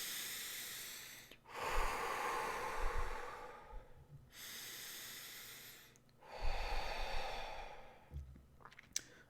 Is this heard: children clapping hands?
no